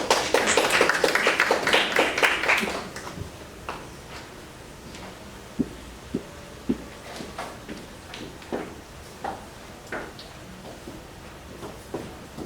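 An audience applauds to welcome the speakers at a student panel on parenthood: dense, loud clapping for about three seconds, then thinning to scattered, isolated claps that fade out.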